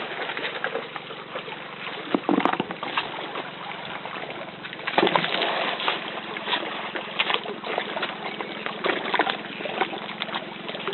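A boat pulls in and docks at the Trinity island pier. A low engine hum runs steadily throughout, with bumps and splashes near the middle, and bird coos sound in the background.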